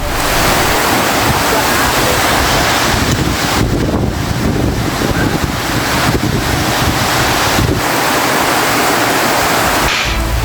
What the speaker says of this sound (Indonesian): Beginilah video amatir warga saat hujan deras disertai angin kencang menerjang wilayah Kabupaten Maros, Sulawesi Selatan.